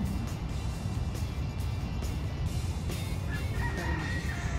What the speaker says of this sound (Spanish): ¡Miren el señor gallo!